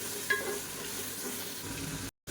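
Tomatoes sauté with salt in a pan while a mutton biryani is being made, giving a continuous soft, even sizzle that cuts off briefly near the end.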